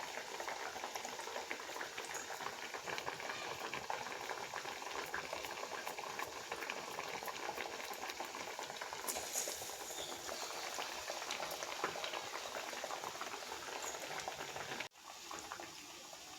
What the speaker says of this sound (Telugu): చూసారు కదండి మన బూరెలు అయితే వేగుతున్నాయి